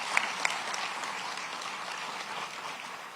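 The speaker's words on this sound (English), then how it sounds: "let's give him a round of applause as well" Applause from an audience at a police-community relations awards ceremony, a steady wash of clapping held at a moderate level throughout, with a couple of sharper claps near the start.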